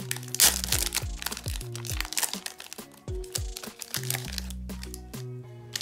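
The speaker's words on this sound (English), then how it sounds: "I have four hobby packs I'm gonna rip into. First one is this 2013 Pinnacle." A 2013 Pinnacle baseball card hobby pack being ripped open up close, loud crinkling and tearing of the foil wrapper in rapid bursts with steady background music underneath.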